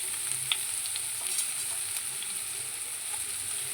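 Onion, ginger and curry leaves sautéing in hot oil with a pinch of salt, a steady close sizzle and hiss with a few light stirring clicks throughout, no talking.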